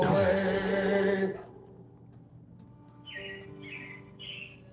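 Animatronic robins in the Carousel of Progress attraction give three short, bright chirps in a row, following the fading end of a sung music passage, over a quiet hum.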